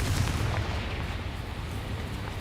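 A Confringo fire-blast spell cast in a video game, a loud rumbling explosive whoosh that fills the whole short clip and slowly fades.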